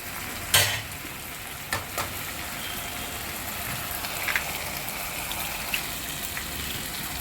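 Eggs frying in a pan with softened carrot and tomato pieces for an egg millet noodle dish give a steady, close sizzle with a few sharp clicks of utensil on pan, and no voices.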